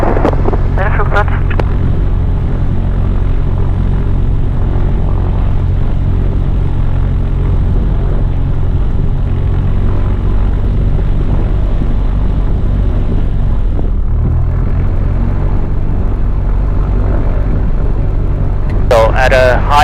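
A propeller airplane engine drones loud and steady from inside the cockpit during circuits and touch-and-goes at the alpine Zell am See airfield in Austria, with wind noise, a brief change near the end and some faint talk.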